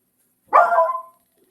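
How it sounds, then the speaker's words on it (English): A single short dog bark rings out close by, loud and sharp, with silence before and after. "I don't know why my dog is barking"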